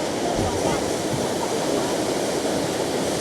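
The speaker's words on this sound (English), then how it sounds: "The ferry brought us really close to the falls." A waterfall near Flåm, Norway, heard from a fjord ferry close to the falls: a continuous, loud roar of rushing and splashing water with no breaks.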